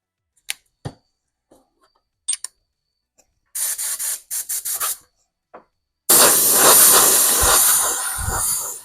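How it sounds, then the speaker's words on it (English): Short spray bursts, then a few longer hissing sprays, ending in a loud continuous spray of pearl silver paint from an aerosol can close by, painting a Kyosho Scorpion body. "We're going to spray some pearl silver."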